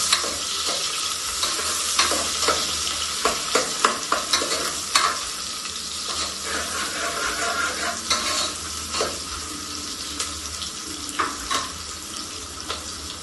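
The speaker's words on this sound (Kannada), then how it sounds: "ನಂತರ ಸಣ್ಣದಾಗಿ ಕಟ್ ಮಾಡ್ಕೊಂಡಿರುವಂತ ಆನಿಯನ್, ಹಾಕ್ಬಿಟ್ಟು ಚೆನ್ನಾಗಿ ಹುರ್ಕೊಳ್ಳೋಣ." Finely chopped onions fry in a pan for Mangalore-style kori rotti chicken saaru, a constant close sizzle broken by repeated scraping knocks of a spatula stirring in irregular rhythm, no voices.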